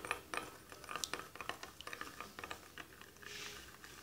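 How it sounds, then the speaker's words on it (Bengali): A spoon beats an egg in a bowl for a Bangladeshi milk and egg semolina halwa, making rapid, uneven clinking taps that run steadily at moderate-to-soft volume with no voices. "এবার ডিমটাকে চামচ দিয়ে ভালো করে ফেটে নিব।"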